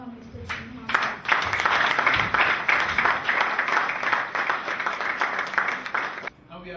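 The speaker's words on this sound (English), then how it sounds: "With a round of applause, please welcome Mr. Juham." Audience applause welcoming a speaker to the stage at an orientation and send-off reception, a dense, loud wash of many hands clapping that swells in and holds steadily for several seconds before cutting off.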